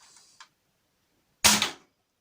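A JetCeda S foam dart blaster fires once, a loud, sharp, close pop and whoosh after a short pause that follows a couple of faint mechanical clicks.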